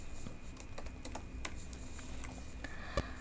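Fingers type on a computer keyboard in quick, uneven bursts of close keystrokes, with one sharper key strike near the end over a low steady hum.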